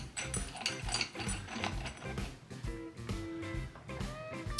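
A tool is tightened to press a bearing onto fourth gear in a Harley 5-speed transmission, giving close, repeated metallic ratcheting clicks in an uneven rhythm throughout, with no talk.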